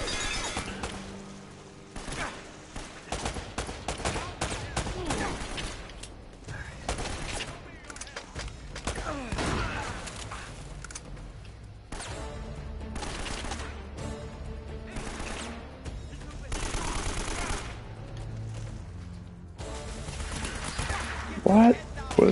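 Intermittent gunfire with shattering impacts in the action game Uncharted, scattered shots and bursts spread across the stretch, moderately loud under a soundtrack-like bed, with occasional talk.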